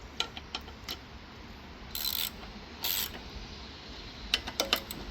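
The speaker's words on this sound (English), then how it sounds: "when you're tightening it with the tool, Matthew, try to do more of a star pattern" Go-kart bolts tightened in a star pattern with a hand tool: a few scattered ratchet clicks and metallic ticks, moderately close, with two brief louder bursts of tool noise in the middle.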